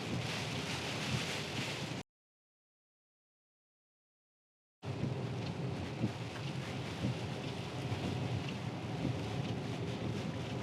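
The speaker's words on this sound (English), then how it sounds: "This is actually more rain than I anticipated" Heavy rain drumming on a Tesla during a drive in a coastal storm, a dense steady wash of rain and road noise with low rumbles. The sound drops out completely for a few seconds partway through, then returns at the same level.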